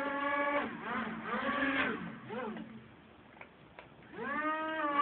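A small electric motor in an RC car modded as a boat whines in rising and falling pitch sweeps as the throttle is pushed and eased in bathtub water, close and fairly loud, with brief lulls between bursts.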